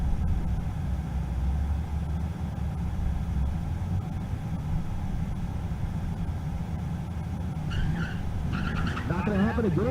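A drag race car at a race week event in Kearney, Nebraska spins its tires in a sustained loud roar and screech, with excited voices rising over it toward the end.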